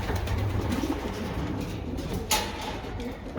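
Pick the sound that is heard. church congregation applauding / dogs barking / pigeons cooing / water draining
pigeons cooing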